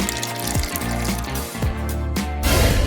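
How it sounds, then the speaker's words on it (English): Water gushes and splashes as it is poured into a tub, a full, steady liquid rush with shifting gurgles that swells slightly louder toward the end. "Add water, there's plenty down here."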